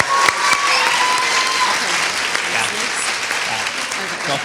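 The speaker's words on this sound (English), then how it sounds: "One last round of applause." An audience at a pharmacy white coat ceremony gives a final round of applause, dense and close clapping that holds steady before easing slightly, with a few voices mixed in.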